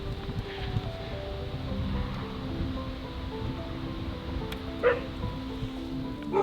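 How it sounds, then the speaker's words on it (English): Excited dogs yip and bark faintly at a distance over steady outdoor background noise beside a lake during an evening fishing trip. "The dogs are going mad for it, Jamie."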